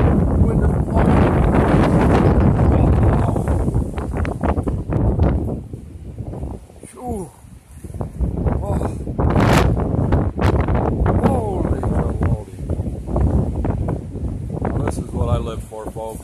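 Wind gusts hard across a Vermont farm during a thunderstorm, roaring and buffeting the microphone in loud, uneven surges, with a person talking through it.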